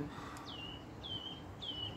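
Birds singing outside on a bright day, three thin descending whistled chirps spaced evenly, fairly faint against a soft background rumble.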